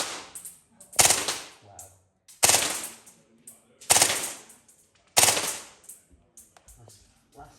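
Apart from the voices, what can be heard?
KSC Auto 9 6mm BB airsoft pistol shooting with blowback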